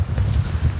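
Wind on a cold woodland walk, buffeting the microphone as a brief, loud, low rumbling gust.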